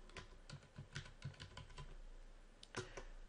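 A search term typed on a computer keyboard, a quick patter of soft key taps close by over a faint steady hum, with no talk.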